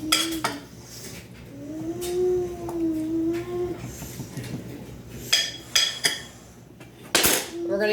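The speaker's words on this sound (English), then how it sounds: "I'm going to go ahead and give this a stir back here" Melting cinnamon mixture stirred in a pan, with close metallic scrapes and clinks of a utensil against the pan, plus a whining animal-like cry in the middle and a soft hiss underneath.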